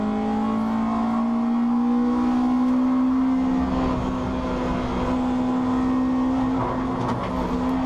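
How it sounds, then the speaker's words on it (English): Race cars at Brands Hatch circuit, with a strong, steady engine drone running throughout and a second car's tone rising and falling as it passes close by, loud and continuous, with no talk. "Dominic got a better drive through Surtees there as they go around the curves down under the start finish line"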